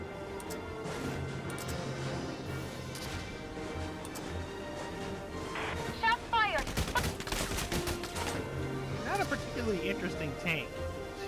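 Bursts of enemy gunfire in Valkyria Chronicles 4 crackle through a busy battle soundscape, clustered sharp volleys in the middle and later stretches, layered with game effects and voices talking over the action.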